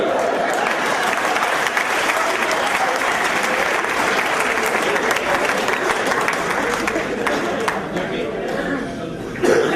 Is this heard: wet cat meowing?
no